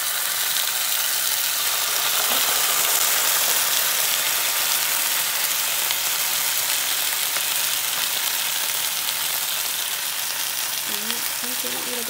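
Sardines fry in a pan with a loud, dense, unbroken sizzle like hissing oil, holding steady and close from start to finish.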